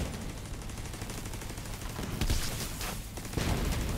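Shotgun blasts and heavy gunfire in a video game, a dense continuous barrage of loud shots with a few bright bursts standing out near the end.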